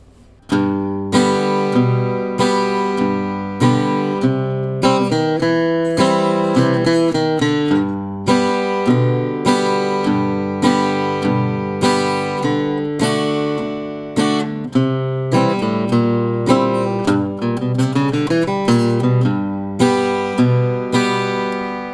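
A blues progression played on a keyboard instrument, steady chords and bass notes with an added 9th bar, building to a quick, dense bass run of notes near the end.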